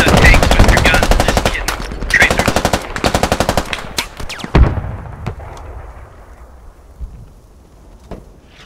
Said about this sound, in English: Machine gunner, don't shoot at the tank with your gun.